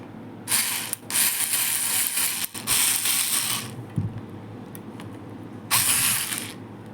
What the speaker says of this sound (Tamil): நான் அப்படியே ட்ரில் பண்ணால் ஸ்க்ரூ டைட்டன் ஆகும்